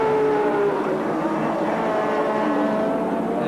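Group C touring car racing at Sandown Raceway in 1984, an engine note climbing through a gear change on the straight, a steady distant roar with a rising tone.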